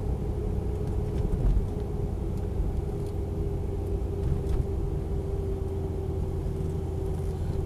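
A Land Rover Defender 90 V8 station wagon drives along with a steady, low engine and road rumble throughout, fairly quiet and even inside the cab, with no talk.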